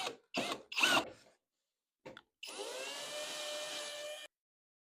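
A power driver runs 1/4-inch screws into the sheet metal of a Maytag dryer. A few sharp clicks and handling knocks come first, then a steady, close whine of nearly two seconds that stops abruptly.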